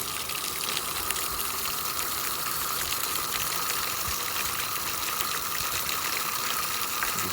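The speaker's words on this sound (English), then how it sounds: "We're just filling up some water in that area there." Water gushes steadily from a hose into a house roof gutter near a downspout to flood it, a continuous broadband rush that is loud and unbroken, with no talk.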